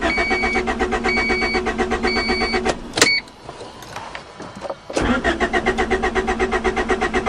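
A 1991 Honda Accord engine cranks over and over in rapid rhythmic bursts without catching, pauses for about two seconds amid faint clatter, then cranks again, close and loud.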